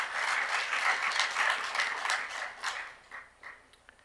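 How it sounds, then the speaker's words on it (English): Audience applause at a public health conference in Africa, a fairly faint round of clapping that holds steady for a few seconds and then thins out and fades near the end. "Please, a round of applause for him."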